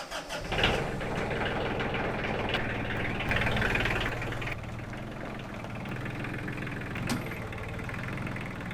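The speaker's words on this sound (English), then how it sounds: "I'm going to get the tractor pulled out here and we'll get everything hooked up" A large engine starts up and settles into a loud, steady idle, chugging with a low rumble close by.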